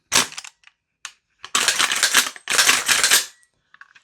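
An airsoft gun fires BBs while double feeding from an MWS magazine: two dense bursts of rapid shots lasting about a second each, with a few isolated pops and clicks between and after them, close and loud.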